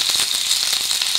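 Onion frying in hot oil in a wok, a steady dense sizzle with fine crackling throughout, close and fairly loud with no voices.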